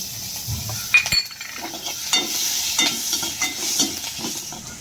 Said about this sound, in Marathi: दालचिनीचे दोन तुकडे तीन ते चार ग्रीन विलायची आणि पाच ते सहा मिरी तेलामध्ये परतवून घेऊ